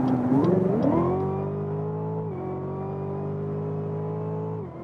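A 2018 Cadillac CTS-V Carbon Black Edition accelerates hard, its engine note climbing through a quick gear change, then holding a smooth sustained tone that dips once with another shift before easing off.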